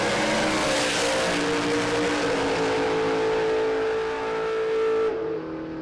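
A 1988 VN Commodore drag race car screams at full revs down the strip at a raceway, loud and sustained with rising engine tones, then cuts off abruptly near the end.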